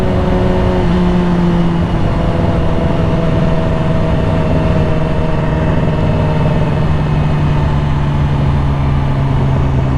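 A motorcycle is ridden along a road with a loud, constant engine drone up close, its pitch drifting slightly as the rider holds speed, with no break.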